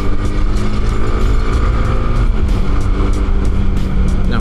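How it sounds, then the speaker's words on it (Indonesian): Motorcycle riding through a port area among trailer trucks and cargo containers, with a loud, steady blend of engine rumble, traffic and wind noise filling the whole stretch as it overtakes a trailer truck. "kita salip dulu ini trailer."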